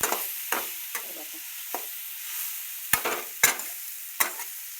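Masala with turmeric roasting in a pan makes a soft steady sizzle, with scattered scraping clinks of a spoon stirring it, some sharper scrapes standing out near the end, and no voices.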